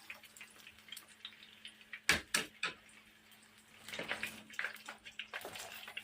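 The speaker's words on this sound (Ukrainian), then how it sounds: "І смажемо з другої сторони." Lazy chebureki fry in a pan on their second side, giving sparse, quiet crackles and pops with a few sharper knocks near the middle and busier spitting toward the end.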